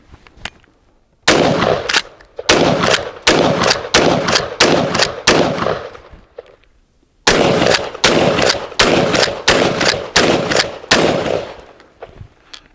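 Sulun Arms Tacsoras 12 gauge semi-automatic shotgun, a Benelli M4 copy, firing 28 gram Ely 8-shot target shells: two rapid strings of about seven loud, sharp blasts each, separated by a brief pause.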